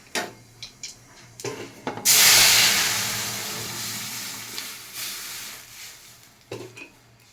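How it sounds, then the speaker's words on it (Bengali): Boiled dal tempered with radhuni and dried red chillies: a loud sizzle bursts in as the hot oil hits the pot and slowly fades, framed by a few scraping stirs and utensil knocks. "ডালটা সেদ্ধ করে রেখেছিলাম, ফোড়ন দিয়ে দিচ্ছি, রাঁধুনি ফোড়ন আর শুকনো লঙ্কা।"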